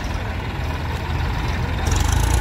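Massey Ferguson 244 tractor engine idling steadily at a farm demonstration, a low continuous rumble that grows slightly louder toward the end.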